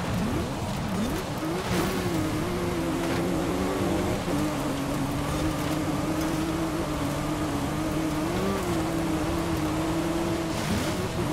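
A Porsche 911 Carrera S in the driving game Forza Horizon 5 slides across gravel, its engine holding a steady wavering drone under a constant loud gritty rush of loose stones and tire noise.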